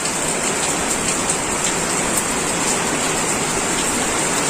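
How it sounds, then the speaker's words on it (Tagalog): Heavy typhoon rain with strong wind roars in a dense, unbroken hiss that stays loud and steady throughout, with no voices. "Lakas ng hangin na may kasamang ulan."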